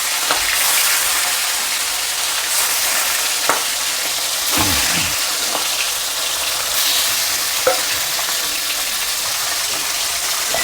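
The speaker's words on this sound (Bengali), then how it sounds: "আমি সরষের তেলে বানাবো। আমার কড়াটা তেল গরম হয়ে গেছে। আমি মাছগুলো একে একে দিয়ে দেবো।" Fish frying in hot mustard oil in a kadai or wok, giving a steady, loud, dense sizzle throughout with a few soft clinks and shifts as the pieces go in one by one.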